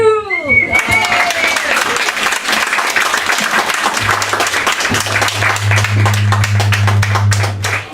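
A comedy fringe show audience breaks into loud, sustained applause, dense clapping filling the room from start to finish with a low hum beneath.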